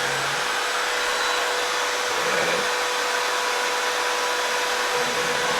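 An Onefinity CNC router runs in a workshop with a steady, loud, even whine and airy roar that holds unbroken for several seconds, with no talk over it.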